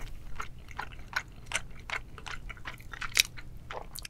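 Close chewing of Korean seafood dipped in soy sauce at a seafood boil, a steady series of soft crunchy, wet bites and mastication, quiet and intimate with no talk.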